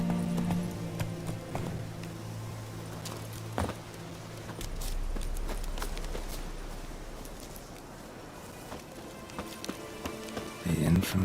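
Roach, a horse in The Witcher 3, trots along with steady clip-clop hoofbeats under a soft patter like rain, while a voice speaks briefly over it.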